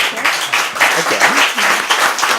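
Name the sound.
audience applause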